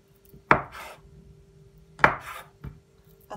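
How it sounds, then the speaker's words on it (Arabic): A knife slices through rolled dough for cheese rolls on a board, with three distinct, sharp chopping thuds spaced a second or more apart, close and clear against a quiet background. "هلأ بقطعها"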